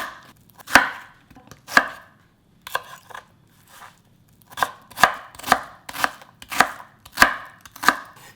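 Knife chopping green onion on a cutting board, crisp close thuds, two slow strokes then a steady run of about a dozen evenly spaced cuts, no talking.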